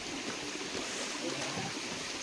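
A river flows over rocks along a stony pilgrimage trail on the Girnar Lili Parikrama route, giving a steady, broad rushing wash of water that stays loud and constant throughout.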